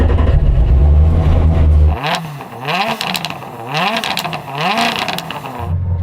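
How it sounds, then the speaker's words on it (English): A small four-cylinder car engine, first a loud steady idle rumble, then a series of sharp revs rising and falling three or four times, close by and harsh. "let's have a listen to your little 4-cylinder."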